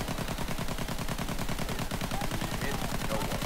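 Rapid sustained automatic fire from an aircraft's guns during a strafing gun run in Battlefield 1, a dense, loud, continuous rattle with no pauses.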